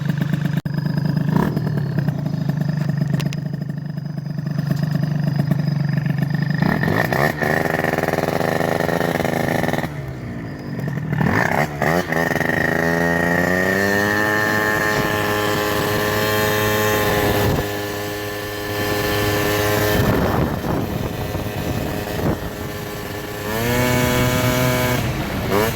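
A scooter engine fitted with a Micron 4 temperature and RPM meter drones steadily while riding, its pitch rising and falling through repeated throttle changes, with brief drops and loud buzzing revs under way.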